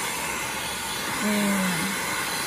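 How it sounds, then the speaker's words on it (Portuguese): A handheld craft heat dryer blows hot air over a canvas painting in a constant broadband rushing hiss, loud and unbroken, with a brief low tonal hum rising midway. "estamos aqui terminando de secar com um secador específico"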